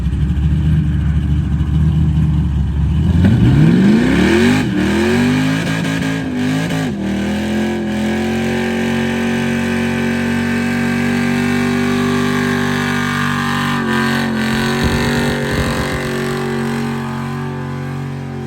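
An LS-swapped truck engine being prepped for Holley LS Fest East revs up sharply, then settles into a steady, loud, close drive tone with small shifts and a brief rougher patch near the end; no talking is heard.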